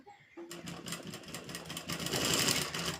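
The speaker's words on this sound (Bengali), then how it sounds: "এইভাবে সেলাই করে নেবো" A sewing machine runs steadily, stitching a baby frock, after a brief quiet start; the rapid mechanical whir builds and grows louder toward the end.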